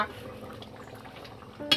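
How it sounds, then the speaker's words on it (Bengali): Soft, faint bubbling of dum aloo boiling in a pot over a wood fire, with a brief clink near the end. "গম গম করে ফুটছে"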